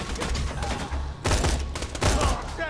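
Single-shot rifle fire in the video game Borderlands 2: a rapid run of sharp, punchy reports in bursts, loud and close, with a brief pause before more shots.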